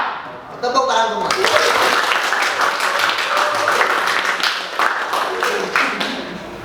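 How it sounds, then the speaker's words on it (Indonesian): After a brief spoken moment, a group at an Islamic religious education session breaks into continuous clapping together, steady and fairly loud until the end. "Tepuk tangan semua."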